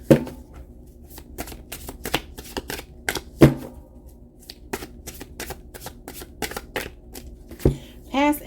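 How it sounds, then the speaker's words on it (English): A tarot deck being shuffled by hand, with a run of quick, crisp riffles and card taps spread through the clip, close and clear, and a brief voice near the end. "3 shuffles, and whichever cards are on top is what I will take."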